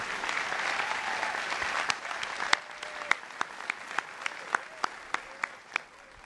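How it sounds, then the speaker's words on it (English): A crowd applauds teachers at Amherst College's 203rd commencement ceremony. The dense clapping thins out into scattered, distinct individual claps that grow sparser toward the end. "Let's give a round of applause for all 3 of these teachers"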